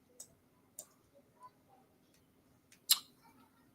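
A computer mouse clicks a handful of times at an irregular pace, each a soft, short tick close by over a quiet background hum, with one slightly louder click near the end.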